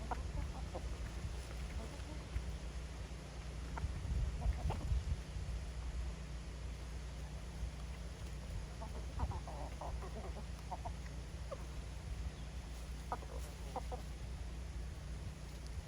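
Chickens in a backyard flock sort out their pecking order with scattered, soft clucks over a steady low outdoor rumble; the calls stay faint and intermittent.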